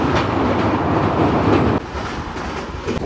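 A Kamakhya–Puri Express (15644) rolls along Indian Railways track, a loud, continuous rumble of wheels and carriage noise close by, dropping slightly in level partway through.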